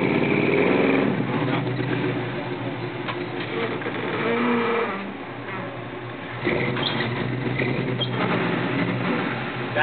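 An off-road truck's engine revs under throttle at a Badlands off-road park, its loud, rough roar swelling and easing as the load changes, dipping midway before surging back up.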